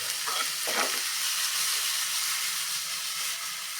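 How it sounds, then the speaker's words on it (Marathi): Vegetables for a tawa pizza topping sautéing in a pan, a soft continuous sizzle with a couple of brief stirring scrapes near the start. "हे साधारण दोन मिनटं फक्त आपल्याला परतून घ्यायचं आहे"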